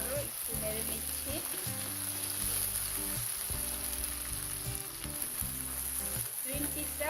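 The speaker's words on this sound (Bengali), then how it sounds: "গ্রিন পিসটা হালকা ভেজে নিচ্ছি।" Green peas fry lightly in a pan with ginger and garlic for fried rice. A continuous close crackling sizzle runs throughout, broken by occasional stirring, with faint tonal sounds beneath.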